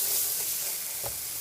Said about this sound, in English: So we're just going to add those to the pan. It's just one whole onion.